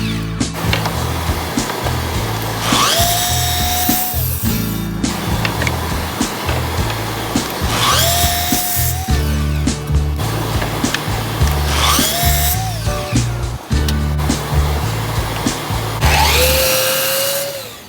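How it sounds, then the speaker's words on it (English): A Festool Kapex miter saw makes four loud cuts through pine and walnut boards. Each cut opens with the motor spinning up, whines through the wood, and winds down, with short gaps between them. "I cut 4 pieces of pine and 1 piece of walnut at 22 using the Festool Capex miter saw."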